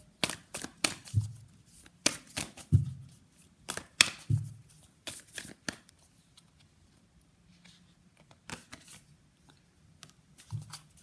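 A Moon Oracle deck of cards is shuffled by hand, a quiet run of irregular riffling clicks and flutters in bursts with short pauses between them.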